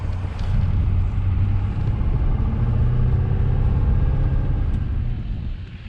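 A 2004 LB7 Duramax 3500 dually pickup that had sat for four years drives along steadily, its low engine and road rumble continuous and loud, with heavy wind buffeting on a chilly day and no talking.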